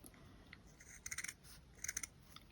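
Scissors cutting felt pieces for a flower brooch, a few quick crisp snips in two short clusters, close and fairly quiet.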